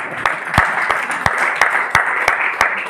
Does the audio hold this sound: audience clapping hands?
yes